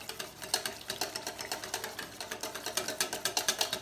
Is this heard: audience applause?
no